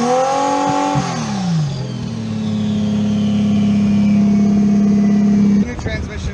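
A drift car's engine revving after a new transmission is fitted: a couple of rising and falling revs, then a long steady loud drone that cuts off abruptly, with a voice talking under it.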